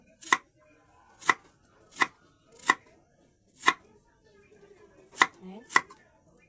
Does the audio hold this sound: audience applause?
no